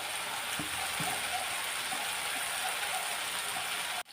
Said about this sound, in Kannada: ಟೊಮೊಟೊ ಫ್ರೈ ಮಾಡ್ಕೊಳ್ಳಿ.